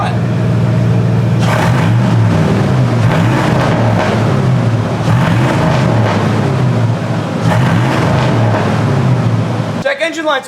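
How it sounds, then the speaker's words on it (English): Gasoline engine of a budget tow truck with no muffler, running close and loud with a steady raw idle and repeated revs rising and falling throughout, cutting out near the end. "I just gotta hear this thing with no muffler right now"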